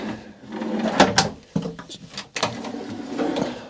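Wooden drawers with soft-close hinges slide and shut inside a converted 2019 Sprinter 170 camper van, giving a series of close, sharp knocks and scraping rumbles spread across a few seconds.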